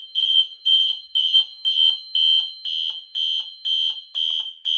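A building fire alarm sounds during a system test, emitting a loud, shrill electronic tone in regular pulses, about two per second, repeating steadily with no pauses beyond the beat.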